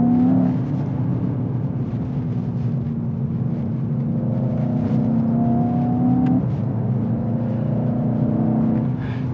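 2021 Mercedes E63S Estate accelerating hard at full throttle, heard from inside as a loud continuous engine roar that climbs in pitch, drops briefly at a gear change, then climbs again.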